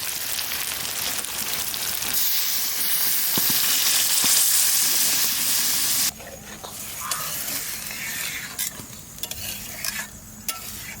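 Duck meat with new potatoes in a village-style curry sizzles hard in a wok, a loud steady frying hiss that abruptly drops as water is poured in, followed by quieter bubbling and spoon scrapes.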